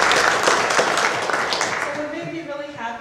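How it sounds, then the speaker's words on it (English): Church congregation applauding during a Sunday service, a broad wash of clapping that fades slowly as talk rises underneath toward the end. "So big round of applause for Lisa"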